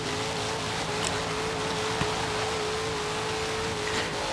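A Dodge Challenger's engine drones at a steady, fairly constant pitch in the video game Forza Horizon 3. The sound is sustained and moderately loud, with light rattles and noise, and no one talks.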